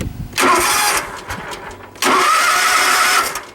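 A Toro/Exmark zero-turn mower engine is cranked twice, each attempt a loud close whirring roar lasting about a second, the second catching and holding steadily, with no talking.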